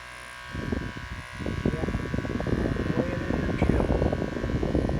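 A small portable fan running in a tent on a humid July hike on Duggar Mountain, giving a close, steady whirring buzz that continues without a break.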